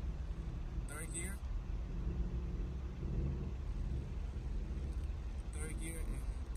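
Automatic car, a MK3 or MK4, driving and shifting up through first, second and third gears, a steady low engine rumble throughout with faint talk over it near the start and end.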